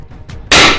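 A single sharp gunshot cracks loud and close after a moment of faint rustling, its burst decaying quickly during a Bangladesh Army assault on a building.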